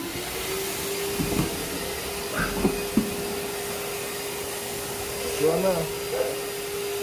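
A vacuum cleaner's rear exhaust port, switched to blower duty after its hose was washed out, runs as a steady whooshing drone through the clip, with a few knocks and a brief remark spoken over it.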